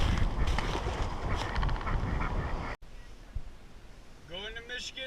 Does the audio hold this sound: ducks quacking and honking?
yes